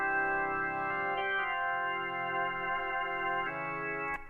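A Numa organ run through an organ overdrive amp simulator preset that rolls off the treble holds sustained chords with a full, even tone, shifting chord at intervals. A short click comes near the end.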